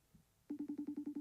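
A phone call rings out through a speakerphone held against a studio microphone, a steady repeating pulsed ringback tone of about eight short even beeps following a brief quiet pause.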